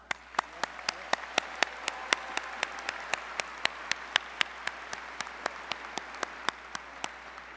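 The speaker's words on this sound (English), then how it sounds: "Let's give them a round of applause." Graduation ceremony audience applauding families and friends, a steady wash of many hands clapping with sharp individual claps standing out at a regular rhythm, moderately distant in a large hall, with no talk.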